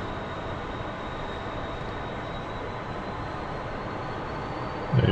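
An F-14 jet taxiing onto the runway in DCS World, a flight simulator: steady engine hum with a faint high whine runs throughout at moderate level, with a brief louder thump near the end.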